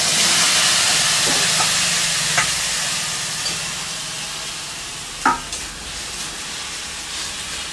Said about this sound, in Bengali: এই যে ম্যারিনেট করা চিকেনটা, ফোড়নটা হয়ে গেছে, এবার আমি চিকেনটাকে দিয়ে দেবো।